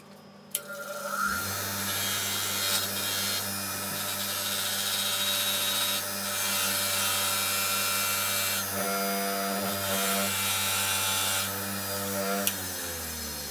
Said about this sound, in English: attach the threads into a drill chuck and then use a wire wheel just to smooth them up